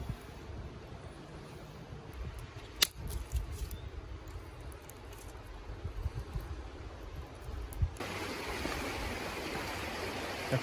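A creek flows steadily, a continuous broad rush of water heard up close outdoors, with a sharp knock partway through and the rushing swelling louder near the end.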